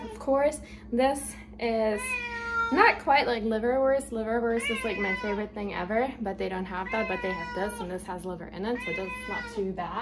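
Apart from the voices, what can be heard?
cat meowing loudly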